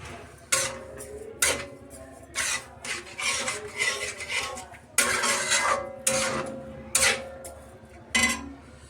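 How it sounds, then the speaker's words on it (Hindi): Carrot halwa being stirred in a pan after sugar is added, with a spoon scraping and clinking against the metal in repeated strokes, close and moderately quiet, no voices. "नौ 10 चम्मच चीनी मैंने डाल दी है, कर दूंगी अच्छे से मिक्स"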